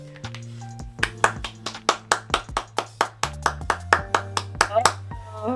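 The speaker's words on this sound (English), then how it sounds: "I give you guys a golf clap for that" A series of single, slow, separate hand claps, roughly evenly spaced, over a steady low musical hum.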